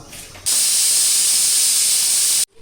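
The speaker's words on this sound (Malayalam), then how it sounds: "അടച്ച് വെച്ച് കാണ്ട് ഒരു വിസിലടിക്കോളം ഒന്ന് വേവിച്ചെടുക്കുന്നുണ്ട്" A pressure cooker cooking chicken lets out one loud, steady whistle, a harsh hissing jet of steam that bursts on suddenly, holds for about two seconds close by, then cuts off abruptly.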